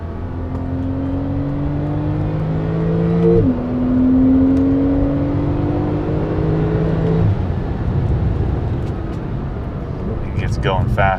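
A Porsche 911 Turbo engine climbs to 6,000 RPM in second gear, its loud whirring tone rising steadily, dropping at a shift, then rising again, with someone talking over it.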